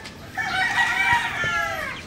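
A turkey on a rabbit farm lets out a single drawn-out, wavering call lasting over a second, close and clear against a quiet background, with no one talking.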